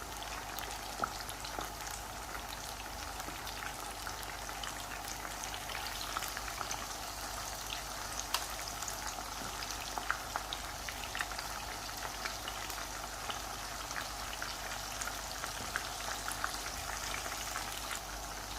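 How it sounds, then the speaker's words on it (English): Potato fritters (pakora) fry in hot oil with a soft, steady bubbling hiss and scattered light pops, moderately quiet and continuous, no talking. "we're just going to allow that to fry until it's golden brown"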